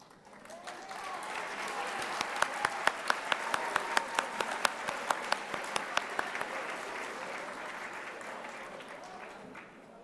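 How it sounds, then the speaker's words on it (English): Sustained applause from a large audience at an eighth-grade graduation ceremony, many hands clapping steadily with a few sharper claps standing out, then tapering off at the end. "we are going to ask you to stand so we can applaud you for that accomplishment"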